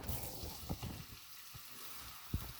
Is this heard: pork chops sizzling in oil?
yes